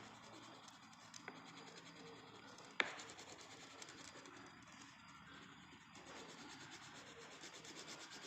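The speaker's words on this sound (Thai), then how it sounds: "คุณครูระบายพื้นข้างหลังด้วยสีฟ้าค่ะ เพื่อความสวยงามนะคะ" Colouring in a worksheet background in blue makes soft, continuous scratchy rubbing strokes, faint and close, with one sharper tap partway through.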